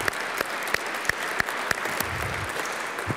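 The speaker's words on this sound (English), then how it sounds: "let's give them all another round of applause" Steady audience applause at the close of an architecture and politics symposium, a dense even wash of clapping with a few sharper claps standing out, moderately loud throughout.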